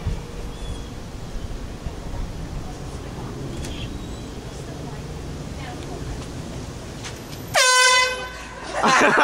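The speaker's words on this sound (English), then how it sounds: "Hold the air horn behind your back" A loud air horn blast near the end, a single sustained blare, following a stretch of noisy crowd chatter and background rumble.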